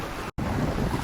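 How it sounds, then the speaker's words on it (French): Steady broadband sea wash and wind in a harbour at Rotterdam, loud and close, with a brief total dropout near the start; no voices. "juste le bruit de la mer et des vagues"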